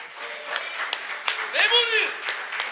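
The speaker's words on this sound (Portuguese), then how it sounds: "Quem é que pode aplaudir o Espírito Santo?" Scattered clapping from a church congregation, sparse and uneven in rhythm, heard under a person talking, with a sung or drawn-out vocal phrase near the middle.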